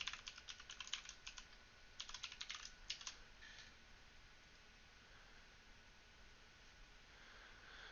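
Someone types a password on a computer keyboard, giving quick clusters of soft key clicks in two short bursts with pauses between them. The keystrokes sound close but quiet over faint background hiss, and nobody speaks.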